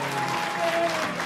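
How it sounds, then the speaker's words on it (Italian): Residents of a town quarter applaud their archers at the Sagra del Tordo 2019 archery tournament, giving a brief, full burst of dense crowd clapping that stays loud and even throughout. "questo è l'applauso di rito ormai, i quartieranti salutano i propri arcieri"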